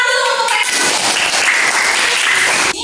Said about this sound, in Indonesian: Tepuk tangan dulu untuk Rehan.